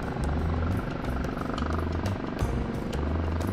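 A helicopter in an online video game drones with a steady low rotor and engine hum, fairly loud and continuous, with faint clicks over it.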